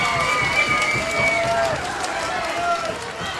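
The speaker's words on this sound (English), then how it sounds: "Let's hear some noise and applause" At a fight night boxing event before the third round, a crowd roars and cheers with steady, full noise and scattered whistles, while an announcer talks over the din.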